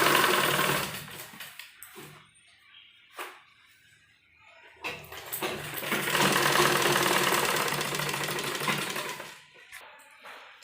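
A sewing machine stitches salwar panels in two close, loud bursts of rapid mechanical chattering, separated by a quiet pause with small handling noises.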